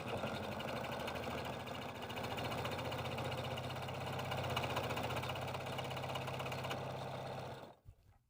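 A sewing machine zigzag stitches a spiralling rope coaster, its steady motor hum and rapid needle chatter running loud and unbroken before cutting off at the end.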